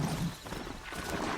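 Horse hoofbeats while riding in the video game Horizon Zero Dawn, a dense, steady clip-clop of hooves under a noisy game mix, fairly loud and continuous throughout.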